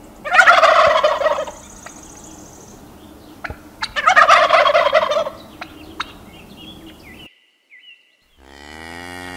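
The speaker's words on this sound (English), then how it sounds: "Turkey." Turkey gobbling in two loud, rattling bursts near the start and middle, separated by quieter farmyard ambience with a few faint clicks and calls, then a brief near-silence before a different animal sound begins at the end.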